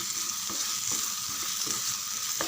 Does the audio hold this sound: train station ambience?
no